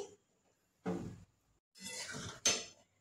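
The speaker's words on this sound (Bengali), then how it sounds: "আমি এবারে ছোলার ডালটাকে একটা বাটির মধ্যে ঢেলে নিচ্ছি।" Cooked chana dal is poured from a pot into a bowl, with a few separate clinks and scrapes of metal utensils against the cookware, close and quiet between them.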